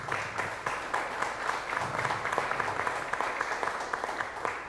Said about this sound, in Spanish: Damos un fuerte aplauso a Armando Pesqueira.